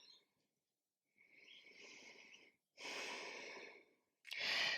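Smooth, steady breathing during a yoga forward fold, heard as a few slow, close breaths with long even exhales separated by short silences.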